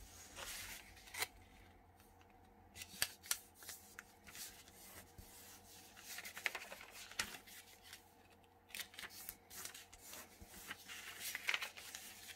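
Sheet of paper being folded into a letter fold, heard as soft close crinkling, rubbing and creasing with a few sharper crisp snaps, fairly faint and without talking.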